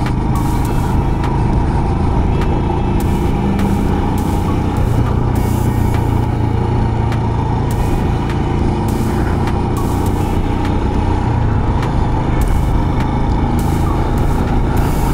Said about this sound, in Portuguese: Caminhões.